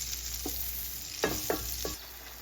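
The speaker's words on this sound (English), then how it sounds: "I'll allow it to fry for 3 minutes" Spaghetti ingredients frying in a pan over steady low sizzle, with a few brief stirring scrapes and clatters of a utensil against the pan, close by and no talk.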